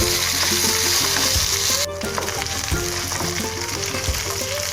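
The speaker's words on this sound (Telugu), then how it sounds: "ఇలా చీలికలు చేసి ఇందులో వేసేసుకొని వేగనివ్వాలండి" Slit green and red chillies with curry leaves frying in hot oil in a pan for Andhra-style chicken 65, a steady loud sizzle throughout with a sharp hiss dropping partway as the ingredients go in, no talk.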